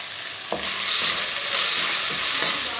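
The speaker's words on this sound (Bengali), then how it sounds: "আবার আমি নাড়ব" Ginger, tomatoes and green chillies stirred in a pan for a matar paneer base, with a steady hiss of frying and a few soft scraping knocks from the spoon.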